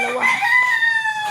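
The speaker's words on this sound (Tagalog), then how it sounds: "Mga manok ko, sobrang laki." A rooster crows close by on a small home farm, one sustained rising-then-level call that fills the moment without any talk over it.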